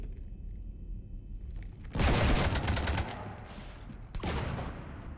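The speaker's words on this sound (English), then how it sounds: "You want to stop shooting up my ship?" Dense burst of rapid gunfire in Mass Effect as a ship is shot up, a sustained loud volley that cuts in abruptly after a quiet hum, pauses briefly, then resumes with another sharp round of shots.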